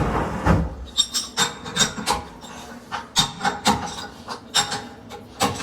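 A CNC machine cuts 3-inch trailer lift blocks with a rhythmic series of sharp rasping strokes, close and fairly loud, repeating about twice a second.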